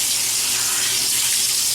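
Tap water runs steadily into a sink to wet the face before a shave, a close, loud, continuous hiss and splash with no talking.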